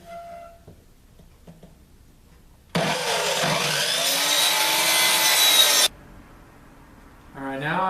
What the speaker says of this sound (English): cut a 45 slice off of this end and then off the other end